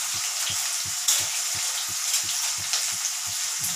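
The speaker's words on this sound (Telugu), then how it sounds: "ఆయిల్ వేసాను, పచ్చిమిరపకాయలు, కరివేపాకు, ఉల్లిపాయలు వేసానంటే అవి బాగా మగ్గుతున్నాయి." Green chillies, curry leaves and onions frying in oil in a home kitchen pan, a steady close sizzle with soft regular stirring or bubbling pulses and no talking.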